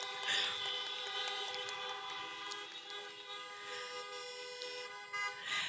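Car horns honking at a 2020 campaign rally in Des Moines, Iowa, several overlapping toots and sustained blares from a crowd of vehicles, loud and continuous for several seconds.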